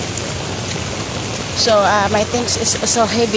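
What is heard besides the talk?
heavy rain at a market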